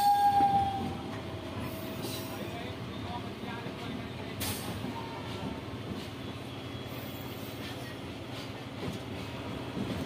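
A passenger train rumbles steadily along the rails on the approach to a station on a line toward Varanasi, a continuous close low roar with a brief tonal horn-like note at the start and scattered clanks, no talk.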